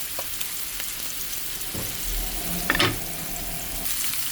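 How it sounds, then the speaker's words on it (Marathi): Finely chopped prawns fry in a pan with ginger garlic paste, giving a steady close sizzle with a few brief clinks and stirring scrapes near the end. "प्रॉन्स कूक जायत येयली म्हाजी."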